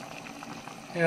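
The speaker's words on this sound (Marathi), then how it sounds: "मस्तपैकी कड आला इकडे" Crab curry with five crabs and added water bubbling in a pot, a steady close simmering burble throughout, swelling louder at the very end.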